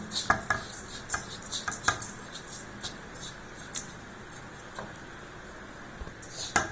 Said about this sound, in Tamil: பாகை ஊற்றி நல்லா சூடோடனே நல்லா கிளறிடணுங்க.